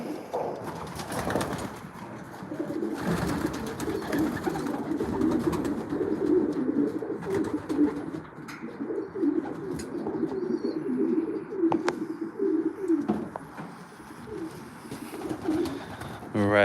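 Racing pigeons coo in a loft, a dense, continuous layering of low throaty calls with occasional wing flutters and brief clatter, close by, with a voice speaking intermittently over it.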